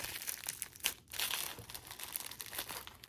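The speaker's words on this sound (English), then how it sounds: "monster bubble wrap off of here" Bubble wrap being pulled off a mail-order package of baseball cards: close, continuous crinkling and rustling of plastic with a short tearing pull and a brief pause midway.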